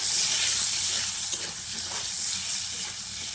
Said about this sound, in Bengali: এবার আলুর মধ্যে অল্প পরিমাণে নুন আর একটু হলুদের গুঁড়ো দিয়ে আলুটাকে বেশ লালচে করে ভেজে নেব